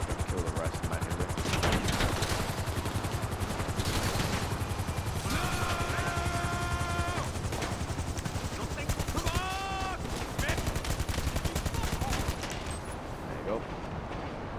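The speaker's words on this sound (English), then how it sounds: "Just quickly land my helicopter and kill the rest manually." Helicopter landing in GTA Online during the Cayo Perico heist, with dense rapid bursts of automatic gunfire crackling over a steady rotor and engine drone throughout, plus brief tonal game sound effects.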